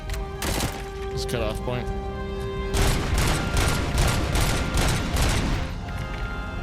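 A civilian weapon fires repeatedly in RoboCop: Rogue City, a dense run of loud, close gunshots and booming impacts that carries on without a break while someone talks briefly over the shooting.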